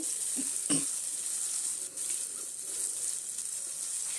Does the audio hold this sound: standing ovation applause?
no